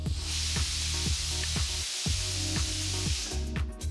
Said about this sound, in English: Close the cooker and cook the plantains for 2 whistles.